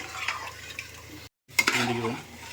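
A spoon stirs mutton biryani in a pot, giving close scraping and clinking with a brief gap of silence partway through, then a louder burst of stirring. Faint voices are heard.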